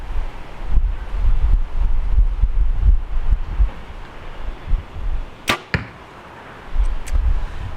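A 50-pound Hoyt Pro Edge Elite compound bow shoots an arrow at an 18-meter target: a sharp string snap and quick thwack stand out against outdoor wind rumble, followed by a fainter later tick.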